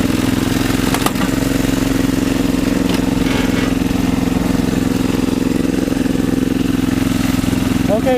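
A riding lawn mower engine idles steadily at a high, fast idle, a continuous close mechanical drone running through the whole stretch, with a few brief clicks and rattles near the start.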